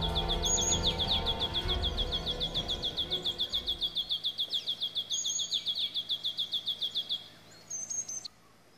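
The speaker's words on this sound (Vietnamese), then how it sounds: "Các loài chim thường bắt đầu cất tiếng hót từ sáng sớm." Birds sing in an early-morning natural setting, a rapid repeating series of high chirps over a rumbling background that drops away, leaving the quick chirping pulses fairly clear and alone.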